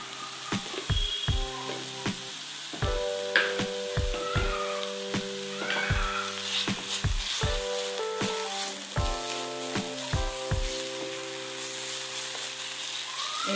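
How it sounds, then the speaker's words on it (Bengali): Onions frying in a pan with a spoonful of salt added, a steady close sizzle running throughout with spatula scrapes and a few clattering taps against the pan. "পেঁয়াজটা নরম করার জন্য আমি এতে একটু নুন দিয়ে দিচ্ছি"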